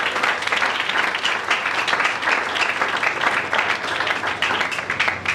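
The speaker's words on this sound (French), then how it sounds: "Acclamons très fort après le Seigneur." A church congregation applauding at a worship service, steady dense clapping from many hands filling the room at a loud, even level throughout.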